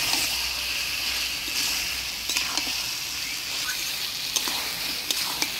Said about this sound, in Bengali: মাংস দিয়ে মশলার সাথে ভালো করে নাড়াচাড়া করে নিলাম।